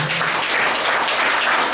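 A church congregation claps loudly and continuously, a dense, even roar of applause with no pauses.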